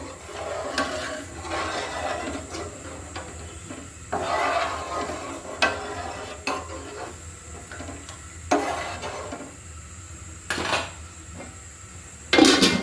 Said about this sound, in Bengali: মাছটা আমি একটু পাতলা ঝোলে করব, ভালো করে নেড়ে দিচ্ছি